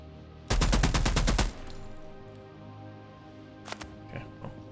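The Kovac M2 in The Expanse: Osiris Reborn fires a loud, rapid automatic burst lasting about a second, followed by a few faint scattered clicks and thuds with no talking.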